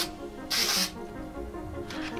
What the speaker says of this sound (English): So I'm gonna use spray adhesive because this Super 77 is more than strong enough to keep this little part